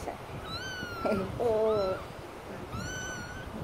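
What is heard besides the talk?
cat meowing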